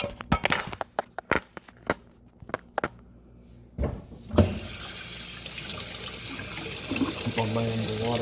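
A kitchen tap runs steadily and close by as a game disc is rinsed under it with soap, following a series of sharp clicks and knocks; the water rush fills the second half and no one talks.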